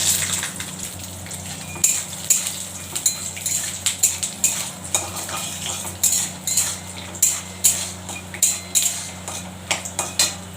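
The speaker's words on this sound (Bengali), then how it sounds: "আগে কড়াইতে ভেজে নিচ্ছি" Raw peanuts are dry-fried in a metal wok while a spatula stirs them, producing repeated sharp scraping and rattling strokes in a regular rhythm, close and clear over a low steady hum.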